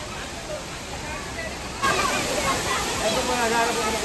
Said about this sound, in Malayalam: അത്യാവശ്യം നല്ല സൗണ്ട് ഉണ്ട് വെള്ളത്തിൻ്റെ.